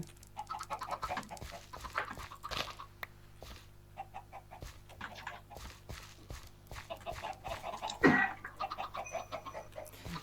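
Several video game chickens cluck in short, irregular bursts over a quiet, steady low hum, with one louder squawk near the end; the clucks sound moderately close and no one speaks over them.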